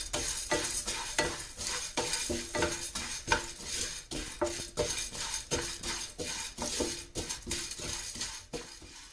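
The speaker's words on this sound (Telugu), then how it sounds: "దీంట్లో కందిపప్పు, పచ్చిశనగపప్పు ఈ రెండు కలిపి మనం ఒక 2 to 3 మినిట్స్ ఇలాగా ఫ్రై చేసుకోవాలి" Toor dal and chana dal dry-frying in a pan over medium flame while being stirred, a rapid series of scraping, rattling strokes with a faint sizzle, close and steady with no talk.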